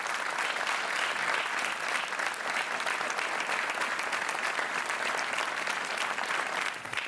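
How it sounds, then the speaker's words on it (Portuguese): Sustained studio audience applause on a TV quiz show, loud and dense clapping holding steady for about seven seconds before easing slightly at the very end. "acho que este aplauso é merecidíssimo"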